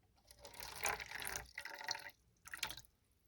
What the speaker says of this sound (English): Now I'm going to put the 35 grams of water in first.